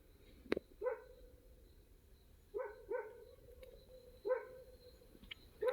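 A street dog barks in a series of sharp barks, about five spread unevenly over a few seconds, heard at moderate distance against a quiet background.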